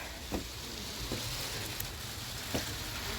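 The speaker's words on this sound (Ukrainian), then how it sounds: "І пішов дощ" Rain falls on a greenhouse roof, a constant close patter and hiss with a few louder drops striking now and then, no one speaking.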